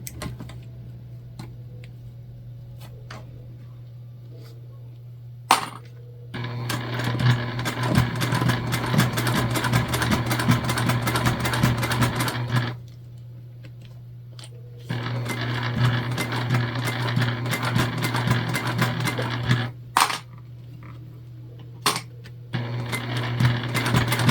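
A sewing machine runs top stitching along a bag in two long steady bursts, separated by quiet pauses and a few short starts, with a constant low hum beneath throughout.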